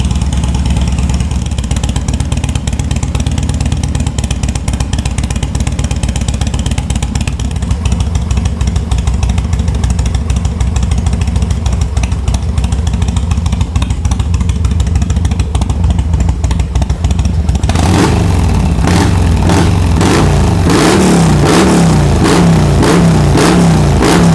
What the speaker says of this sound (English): It's gonna be a good running motorcycle right here